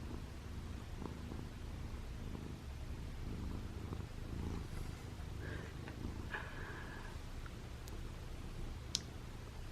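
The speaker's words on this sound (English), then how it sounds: "Listen to that purr." A cat purrs continuously up close, a low steady rumble with a few faint clicks and a brief tick near the end.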